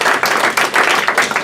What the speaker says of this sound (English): let's applaud him for doing that